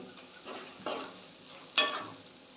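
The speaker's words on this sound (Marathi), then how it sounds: "कांदा मी 1-2 मिनटं परतून घेते आहे. आपला कांदा छान परतून झालेला आहे, तेल पण सुटायला लागलेलं आहे." Onion sautés in oil in a pan for a Maharashtrian dal and onion dish, a quiet sizzle punctuated by three separate stirring scrapes, the last one loudest, with no talking.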